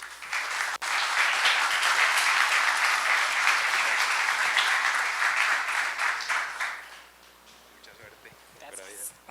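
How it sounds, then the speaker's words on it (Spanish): A conference audience at a Drupal Camp 2019 keynote applauds to welcome a speaker: sustained dense clapping for about seven seconds, then tapering off as a voice begins speaking. "Por favor, recibámosla con un gran aplauso"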